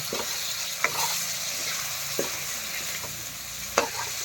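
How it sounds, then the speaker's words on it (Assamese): Pork fries with ginger, garlic and chili under a dense, steady sizzle, close and fairly loud, with a few sharp stirring knocks against the pan spaced through it. "এতিয়া জিৰা দি পেলাই আৰু হিলাই দিছোঁ মই মাংসটো ধুনীয়াকৈ, একদম পূৰা ফ্ৰাই হ'ব লাগিব"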